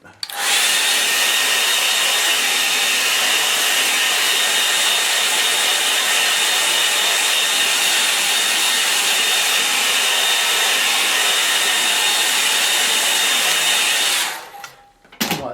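A hair dryer blows steadily on a wet watercolour painting of a snowy heath, a loud, constant whirring hiss that switches on at the start and cuts off near the end.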